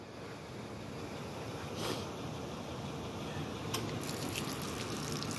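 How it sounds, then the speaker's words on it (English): Liquid poured as a libation onto garden ground where rose plants once grew, a soft, steady splashing pour heard faintly against outdoor background noise. "And pouring you some libation."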